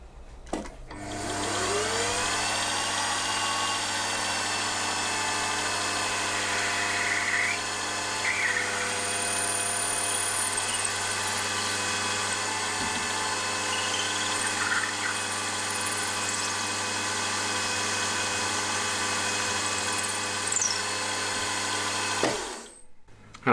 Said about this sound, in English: these need to be counterbored with a 1/4 inch 2-flute end mill